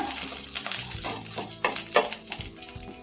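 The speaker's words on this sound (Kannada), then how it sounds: "ಸ್ವಲ್ಪ ಪಲಾವ್ ಎಲೆ ಹಾಕೊಂತಾ ಇದೀನಿ. ಸ್ವಲ್ಪ ಚಕ್ಕೆ, ಒಂದು ಲವಂಗ, ಒಂದು ಮರಾಠಿ ಮೊಗ್ಗು, ಸ್ವಲ್ಪ ಕರ್ಬೇವಿನ ಸೊಪ್ಪು. ಒಂಚೂರು ಬಿಸಿ ಮಾಡ್ಕೊಳ್ಳೋಣ." Bay leaf, cinnamon, a clove, marathi moggu and curry leaves sizzle steadily in hot oil in a pan, with a continuous close crackle and occasional stirring scrapes and pan clinks.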